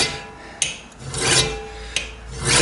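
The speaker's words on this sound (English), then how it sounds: "Then we take a burnishing tool, and this tool is even harder than that steel" A hard steel burnishing tool rasps along a steel blade edge in repeated forceful strokes, close and loud, with sharp clicks at the start of the strokes.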